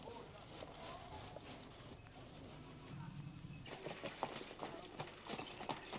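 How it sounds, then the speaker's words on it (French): Hooves of a cob, a light draft horse, clip-clop in a steady walking rhythm at a moderate distance, with a voice speaking alongside and some outdoor background noise. "le cob est un cheval de trait léger, apte à d'innombrables travaux"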